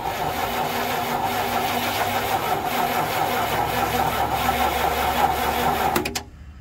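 A 1975 Lincoln Mark IV's 460 V8 turns over while being hot-wire started, heard as a steady, loud mechanical cranking drone that cuts off abruptly near the end.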